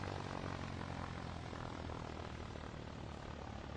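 A seaplane's engine in the VR game SimplePlanes, throttled back while coming in to land, makes a steady, close propeller drone that holds level with no break and no voices.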